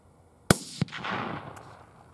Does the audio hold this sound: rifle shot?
yes